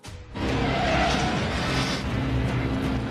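A pick-up truck revving and speeding away in an action-film chase scene, a loud sustained engine roar with tire noise that rises after a brief lead-in and holds steady throughout.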